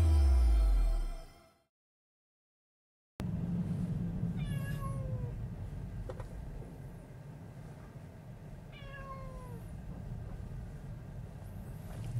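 A cat rides in a car on the way to the vet, meowing twice in distinct, wavering cries over a steady road rumble, after a loud burst and a brief silence.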